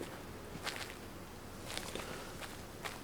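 A mountain goat walks on Alaskan terrain in the video game Way Of The Hunter, its footsteps a few soft, scattered crunches over a low background hiss.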